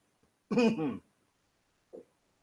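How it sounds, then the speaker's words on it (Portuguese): A single harsh cough breaks the quiet, followed a moment later by a softer, shorter one. "Desculpe a tosse."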